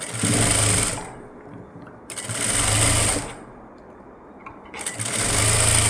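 A sewing machine stitches the lining of a blouse in three loud bursts, each a rapid mechanical whir, separated by short quiet pauses.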